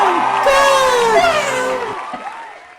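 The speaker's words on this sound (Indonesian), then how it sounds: "Tepuk tangan lagi untuk Shiva" A chemistry class of students cheers, whoops and claps for a classmate, loud and close at first, then fading out after about two seconds.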